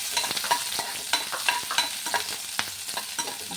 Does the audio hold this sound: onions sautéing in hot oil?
yes